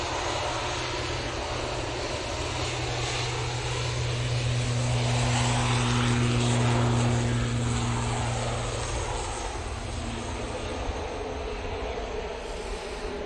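An aircraft departs Manchester Airport for Dublin, giving a continuous engine drone with steady low tones that swells to a peak midway and then eases off, with no talk.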